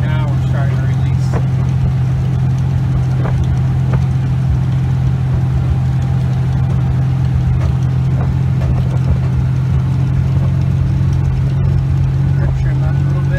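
A Baja 272 Islander boat runs on plane with a steady, loud engine drone and a constant rushing of water and wind, unbroken for the whole stretch.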